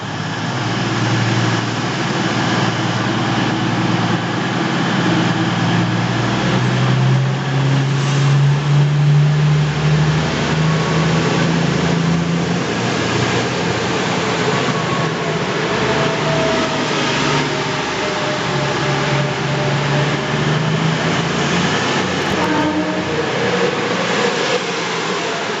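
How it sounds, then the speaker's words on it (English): An East Midlands Railway train pulls out of Derby station bound for London St Pancras, its engine giving a steady, loud diesel drone that shifts in pitch as it moves off. "Departing now is the 12:04 East Midlands Railway service to London St Pancras."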